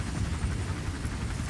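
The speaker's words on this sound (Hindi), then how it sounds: "हेलीकॉप्टर आ गए भाई साहब" Helicopter arriving in the video game Resident Evil 4: a low, steady throbbing rotor rumble that holds evenly at moderate loudness throughout.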